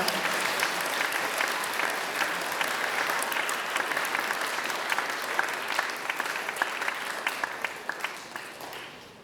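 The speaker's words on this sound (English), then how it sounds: "Please give them all a big round of applause." An audience at a school special recognition ceremony gives the Interact Club and its officers a long round of applause, a dense, steady patter that thins toward the end into a few scattered claps.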